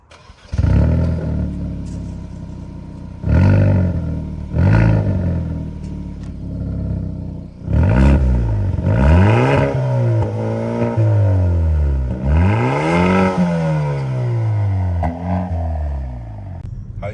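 A Hyundai i30 N hot hatch engine revs repeatedly in strong bursts, pitch climbing and falling several times, loud and close, with no talking.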